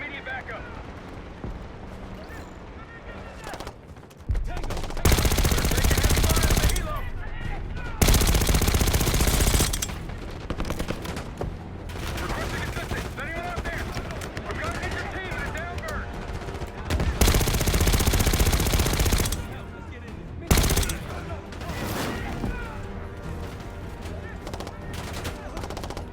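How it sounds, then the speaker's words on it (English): Gunfire in the Call of Duty Black Ops 6 campaign, desert dunes setting: repeated bursts of automatic and single shots with loud blasts, coming in clusters between quieter gaps, with voices talking in between. "We've got gunfire to the right."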